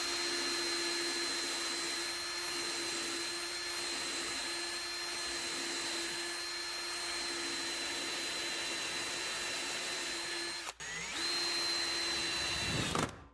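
A power drill drives screws with a steady, loud motor whine that holds for over ten seconds, cuts out briefly, then starts again and winds down at the end.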